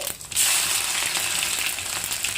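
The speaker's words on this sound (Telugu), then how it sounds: "ముందుగా ఆవారు, జీలకర్ర, తెల్లగడ్డ వేసుకోవాలి." Mustard seeds, cumin and garlic sizzle in hot oil for a chutney, a steady bright crackling hiss that swells after a brief quieter start and holds close and loud throughout.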